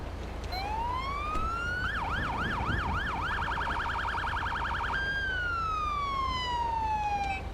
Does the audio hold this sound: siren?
yes